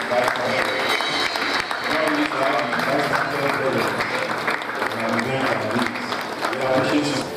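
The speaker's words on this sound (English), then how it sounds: "Let's remain standing and keep clapping" Standing audience applause for the Vice Chancellor at a medical and dental graduates' induction ceremony, sustained loud clapping with crowd noise and music-like tones underneath, steady throughout.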